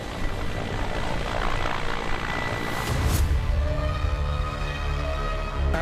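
An MH-60R Romeo multi-role naval helicopter, its engine and rotor producing a steady, loud, continuous roar with a slight rise in intensity midway, no voices.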